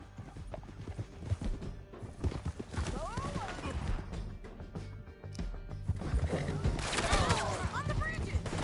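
Horses gallop in the Red Dead Redemption 2 video game, a rapid clip-clop of hooves with whinnies and neighs, amid gunfire and shouting voices, fairly quiet and busy throughout.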